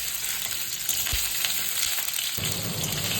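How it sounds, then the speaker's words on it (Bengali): Paneer pieces fry in oil in a wok for a vegetarian potol paneer curry, giving a loud, dense, continuous close sizzle with a soft thump partway through and no speech. "তো প্রথমেই আমি কড়াতে তেল দিয়ে পনিরগুলো ভেজে নিচ্ছি"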